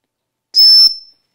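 A single short, loud, shrill whistle blast, under a second long, from a small whistle built into a multitool that also carries a fire-starting flint.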